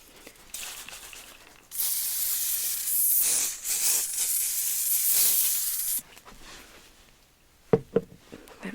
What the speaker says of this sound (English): I'm going to hit it with some hairspray all over